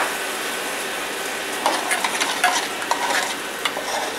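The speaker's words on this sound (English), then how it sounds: "the scallops starting to caramelise the outside of them" Loch Fyne scallops pan-fry and caramelise in a hot pan, giving a steady close sizzle with light scrapes and clicks of a utensil against the pan.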